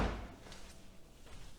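A BMW Z4 door shutting close by with a single dull thump at the start, followed by faint shuffling and room noise.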